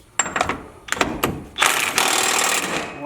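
Impact wrench tightening a bolt on a Jeep Gladiator, several short rattling hammering bursts up close, then a longer sustained burst.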